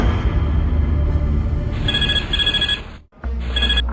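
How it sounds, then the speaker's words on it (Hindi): An electronic telephone ring sounds in two bursts, then a third after a brief silence, over a low rumbling background. "लो उसी चौधरी का फोन आ गया।"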